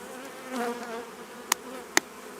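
Honeybees shaken from frames in an apiary in early April buzz steadily at close range, a dense droning hum, broken by three sharp knocks or taps toward the end.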